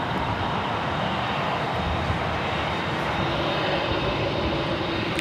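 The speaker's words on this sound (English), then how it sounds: "we just had a Sun Country 737-800 land on 25 left" A Sun Country Boeing 737-800 lands on runway 25 left at LAX, heard as a steady, loud broadband jet engine roar with no pauses or voices.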